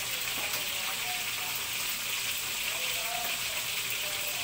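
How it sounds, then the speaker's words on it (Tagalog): Catfish frying in a pan with salt, pepper and bay leaf, a steady dense sizzle with light spattering pops throughout, close and continuous. "So medyo tumatalsik yung isda natin"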